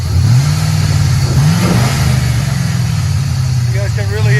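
A 2001 GMC Sierra with a 6.0L V8, shorty headers, cold air intake and true dual Flowmaster Super 10 exhaust revs up, its deep rumble rising and falling loudly up close, with a voice speaking over it.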